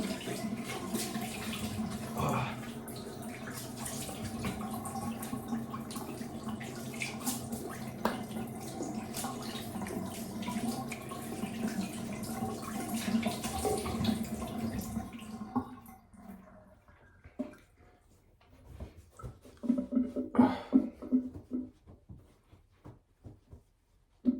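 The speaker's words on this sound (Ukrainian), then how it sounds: "Так, холодненьку водичку." Cold water running steadily from a tap into a sink for about fifteen seconds, then shutting off, leaving faint drips and a few wet handling sounds.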